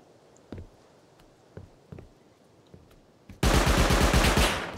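Automated turrets in the survival game Rust open up in a loud, rapid burst of gunfire that fills the last second and a half, after a few scattered single shots and footsteps.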